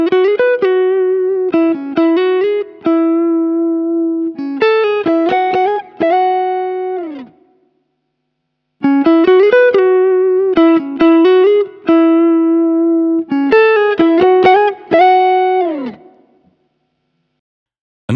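A distorted electric guitar plays through a Kemper Profiler with a linear volume pedal boost, in short phrases of picked notes and sustained bends separated by a brief silence, loud and clean with no voices.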